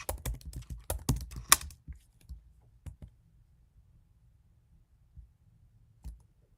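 Fast bursts of keystrokes on a computer keyboard during a game development session, dense clicking for about two seconds, then a few scattered taps before trailing off into near silence.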